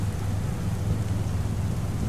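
Steady rain pours with a low thunder rumble underneath in the Farming Simulator 25 video game, a dense continuous wash with no talk.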